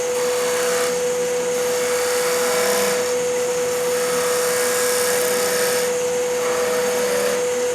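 A skew chisel held long point down takes a light, free cut on wood spinning on a lathe while shaping a crochet hook, giving a steady whining motor drone with a bright, even scraping hiss that rises and falls in slow passes.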